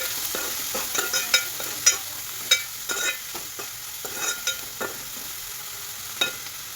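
Onions frying in a pan with salt and turmeric for an Andhra-style meal maker curry, a steady close sizzle with repeated spoon-stirring scrapes.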